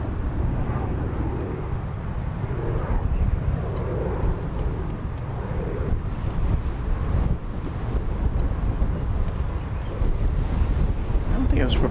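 Strong wind at an open airport field pummels the microphone in continuous heavy gusts, a low rumbling buffet that surges and eases throughout, with a faint voice briefly under it.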